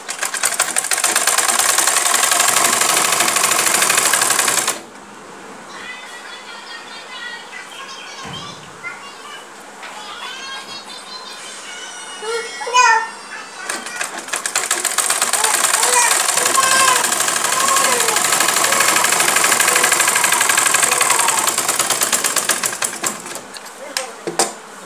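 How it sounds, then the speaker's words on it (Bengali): Electric sewing machine running in steady bursts as it stitches the side seam of a cotton kameez, a loud continuous mechanical whir with a quieter pause in the middle where a voice talks over lighter machine sounds. "দেখুন, এই যে আমাদের কামিজের সাইড সেলাই করা হয়ে গেছে"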